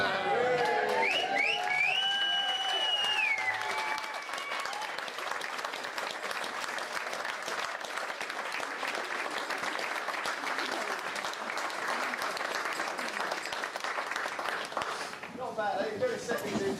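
Wedding guests at a barn reception give the couple a sustained round of applause, dense steady clapping lasting many seconds with some cheering, after a voice speaks at the start.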